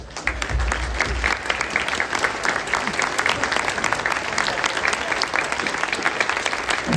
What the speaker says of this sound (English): Let's recognize and give you a round of applause.